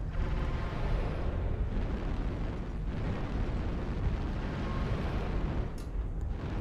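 Continuous heavy rumbling and booming from airstrike explosions in a video game, a loud dense barrage running the whole time with no clear breaks.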